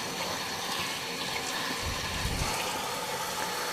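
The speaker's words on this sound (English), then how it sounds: "Run the water through the filter." Tap water runs into a Dyson V11 vacuum filter being rinsed, a steady close splashing flow with a brief deeper gurgle midway as the filter fills.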